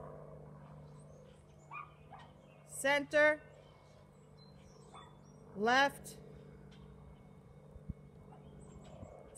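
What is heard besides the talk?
small dog yapping in the background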